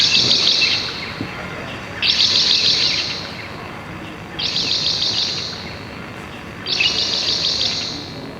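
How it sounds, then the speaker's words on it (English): Paddyfield Pipit song played back from a recording: four evenly spaced bursts of high, buzzy chirping, each about a second long, over a steady background hiss, with no talking. "Okay, so that was the song of the Paddyfield Pipit."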